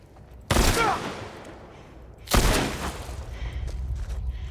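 Two loud gunshot blasts ring out in The Last of Us, each a sharp crack trailing into a long echoing decay, the second followed by rumbling background noise.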